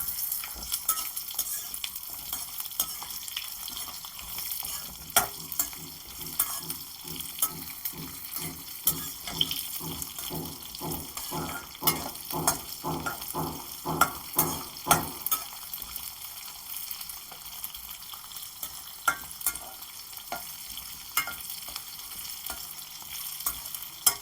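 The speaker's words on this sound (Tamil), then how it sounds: "நம்ம வெங்காயம் கொஞ்சம் நல்லா வதங்கட்டும்ப்பா" About 100 grams of small onions sauté in a heavy kadai over low heat, with a soft steady sizzle and a run of rhythmic scraping stirs in the middle. The sound is close and gentle, with no speech.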